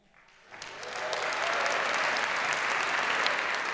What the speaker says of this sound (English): By a round of applause, how many of you guys here are married tonight?